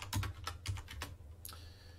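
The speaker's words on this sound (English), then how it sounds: "let's just type it in again" Quiet, close keystrokes on a computer keyboard during a Linux LVM lab session, a quick burst of about five taps followed by a lone later press.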